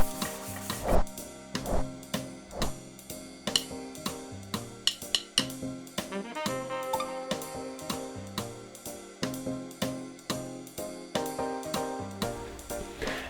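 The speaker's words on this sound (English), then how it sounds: "do a good sanding until you have a slick and even surface" Wet sandpaper is rubbed by hand in repeated strokes against a carbon bike frame, with scraping passes and occasional sharp knocks.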